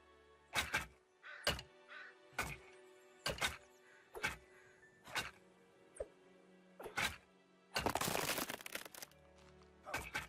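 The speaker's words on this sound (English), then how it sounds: "Wooden fences are 7 hits to destroy. I'm using the spear because it's more accurate." Spear strikes thudding into a wooden fence in The Forest, a series of about nine sharp, evenly spaced impacts with a louder crunching burst near the end, close and clear with no talking.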